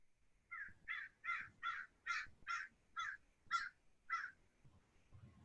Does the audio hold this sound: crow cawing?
yes